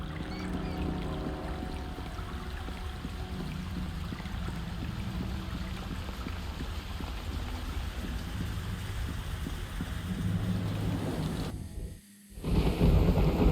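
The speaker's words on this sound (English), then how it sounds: "Hey, it's raining, but I can see this time." Steady rain falls across an outdoor area in the Neverwinter Nights game, a dense hissing wash with low rumbling undertones, holding constant before a brief dropout near the end, with no voices.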